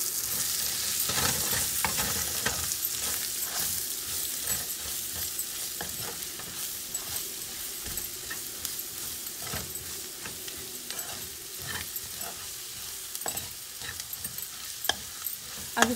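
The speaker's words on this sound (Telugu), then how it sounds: "ఇది బాగా ఆయిల్ లో ఫ్రై చేసుకోవాలి" Chole masala spice mix frying in oil in a pan for chana masala curry, a steady close sizzle with stirring scrapes and clinks running throughout.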